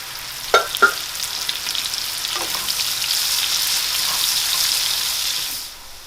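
Mushrooms drop into hot, foaming oil in a pan for beef bourguignon, a couple of sharp clacks followed by a loud, steady sizzle that fills the clip and fades at the end.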